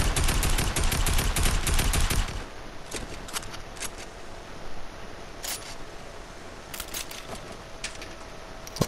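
Rapid, loud gunfire in Fortnite fills the opening two seconds, followed by quieter scattered clicks and small game sounds.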